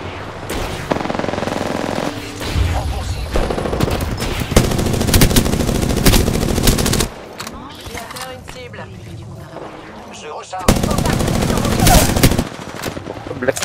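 Heavy gunfire in the video game Apex Legends: long loud bursts of rapid automatic fire broken by short quieter gaps, with a voice talking in between.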